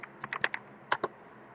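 Keys clatter on a computer keyboard as a Linux command is entered: a quick, close run of about eight light clicks in uneven rhythm, then silence.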